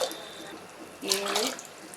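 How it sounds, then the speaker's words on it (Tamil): Water is poured from a tumbler into a pot of rice and dal for sambar rice, a short splashing pour of about half a second, close by, with someone talking around it. "ஃபஸ்ட்டு எட்டு டம்ளர் ஊற்றுறோம்"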